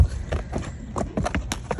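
A gaited horse moves at a fast pace, its hooves striking in a quick, slightly uneven clip-clop rhythm, close and clear over light background noise.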